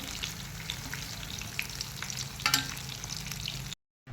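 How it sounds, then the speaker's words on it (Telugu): Steady sizzling of mustard seeds, cumin and urad dal tempering in hot oil, crackling and popping close by, with a brief sharper spatter midway before a sudden cut. "కొంచెం ఆవాలు వేసుకొని కొంచెం దూరగా వేయించుకోవాలి"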